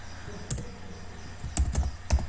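Typing on a computer keyboard while writing HTML header text, with a few quick clusters of key clicks and taps separated by short pauses, close and fairly quiet.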